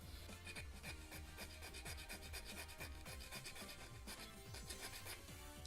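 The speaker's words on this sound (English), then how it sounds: "Let's try sanding down these sides." The sides of a plastic KFC Mugan Scope (Perceptor) toy figure are sanded down with a steady run of quick, rasping back-and-forth strokes, close up and continuous.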